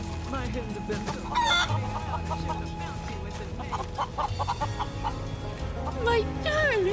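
Hens in Final Fantasy 7 Rebirth cluck repeatedly at close range amid farm ambience, with a rooster-like crow and bright musical tones weaving through the steady game background.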